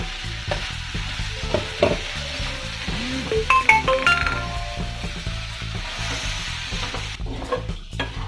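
Grated cassava sizzles in a frying pan while a utensil stirs and scrapes it repeatedly, producing irregular scraping knocks and faint clinks over a constant frying hiss.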